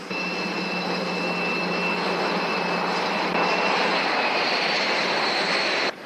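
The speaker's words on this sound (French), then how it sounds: "Si, colonel, c'est mon avion." An airplane engine drones loud and steady in flight, a continuous roar with a high whine that holds level throughout, with no voices.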